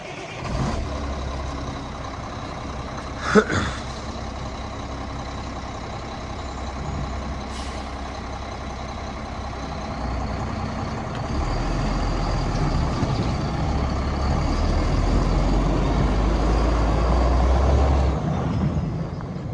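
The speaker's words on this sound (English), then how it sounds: "He's gonna fire it up, give you a good demo." A 1999 Mack RD688S heavy truck runs close by with a steady diesel rumble, a brief sharp air release early on, and the engine note growing louder and deeper in the second half.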